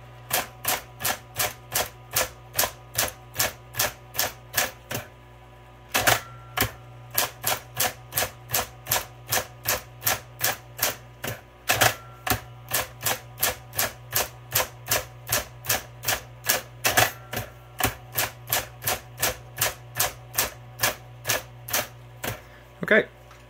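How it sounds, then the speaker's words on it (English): Shifted keys are struck in turn on a vintage blue Smith Corona Coronet Super 12 electronic typewriter, giving a steady, close train of sharp clacks with short gaps between runs and some talk alongside. "okay, so next I'm going to hit shift and I'm going to go through those keys again."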